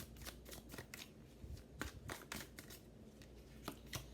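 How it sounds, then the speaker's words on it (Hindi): Tarot cards are shuffled by hand for a reading, a quiet series of crisp riffling slaps and flicks in an uneven rhythm with no talking. "अभी क्लैरिफिकेशंस कार्ड लेते हैं, देखते हैं क्या एनर्जीज आती हैं"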